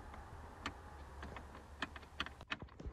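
Shift release lever under the cup holder of a Pontiac G5 being pushed, heard as a few faint plastic clicks and ticks, the last click sharper and louder, over quiet background noise with no talking.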